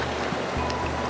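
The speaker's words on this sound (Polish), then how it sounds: "tutaj te fale, które się kłębią na biało aż prawie pod moje stopy" Waves surge and churn continuously against rocks, a steady roar of breaking surf close by, with no voices; Guarita Park, Torres, Brazil.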